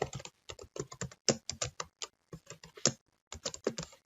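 Close computer-keyboard typing comes in irregular bursts of sharp key clicks separated by short pauses, crisp and loud with nothing else heard.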